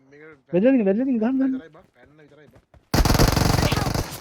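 PUBG Mobile gunfire sounds as a sudden loud burst of rapid automatic shots near the end, after a stretch of excited talk.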